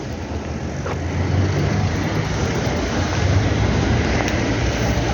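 A delivery car drives up in Zhytomyr, heard as a loud, steady rumble and broadband road noise that stays constant throughout, with no voices.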